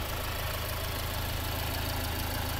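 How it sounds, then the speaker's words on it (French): A 3-litre Maserati Ghibli hybrid engine runs at a steady idle, with a constant low rumble and a busy, even hiss across the whole clip. No voices are heard. "ça c'est le moteur Maserati 3 litres"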